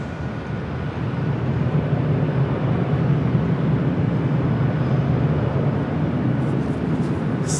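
An Asiana Airbus A350-900, six years old, arriving from Seoul at LAX, gives a steady, continuous jet roar that holds level and fairly loud throughout, with no voices.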